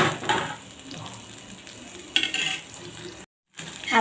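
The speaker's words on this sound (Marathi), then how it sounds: "मसाला छान तेल सुटेपर्यंत आपल्याला शिजवून घ्यायचा आहे।" Masala paste frying in oil in a pan, a close, crackling sizzle broken by stirring scrapes and spoon clinks, with a brief silent gap near the end.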